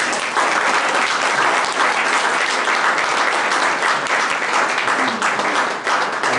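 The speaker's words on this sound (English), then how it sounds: "Can you just give Justin a round of applause?" Applause from a live audience after a leadership talk, loud and steady, a dense wash of many hands clapping together for several seconds with no pause.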